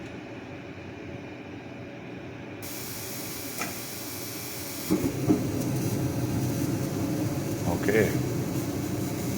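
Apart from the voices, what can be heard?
garage heater turning on and warming up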